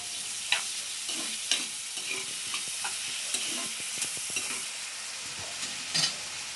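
Onions frying with salt in a pan, the curry base for an Andhra-style brinjal and prawn dish, crackle in a steady close sizzle, broken by repeated scraping stirs and soft spoon taps.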